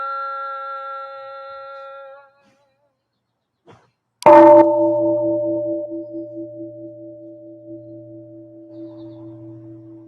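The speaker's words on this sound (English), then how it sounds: "Here is the after sound of the bell." A temple bell at a Zen temple is struck once after a fading earlier tone, ringing out loud and close, then a long humming after-sound decays slowly with gentle pulsing beats.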